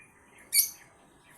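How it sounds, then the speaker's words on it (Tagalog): A green opaline African lovebird gives two short, sharp high chirps, the second cut off at the end, close and clear over a quiet background. "Ang uri niya is African lovebirds."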